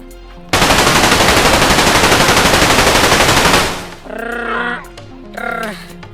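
A long burst of rapid automatic gunfire, loud and close, lasting a few seconds before cutting off, followed by a couple of short animal-like squeals.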